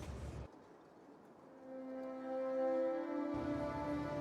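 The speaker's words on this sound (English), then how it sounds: "It's another iron train." An iron train arriving in Factorio with the Pyanodons mod: a short rumble, a quiet stretch, then a rising sustained tonal hum, like a braking or arrival whine, ending as a louder rumble returns.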